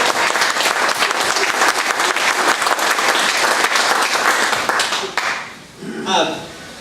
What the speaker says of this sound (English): Can we applaud?